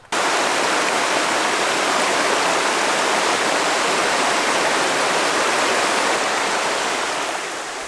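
Mountain river flowing beside a campsite, a steady, dense rush of water that stays loud and even from start to finish and eases slightly at the very end, with no voices.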